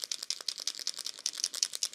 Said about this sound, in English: Shake up your marker.